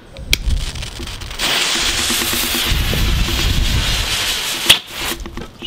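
A fast-burning fireworks fuse hisses and sputters steadily for several seconds, then ends in a sharp bang, followed by quiet.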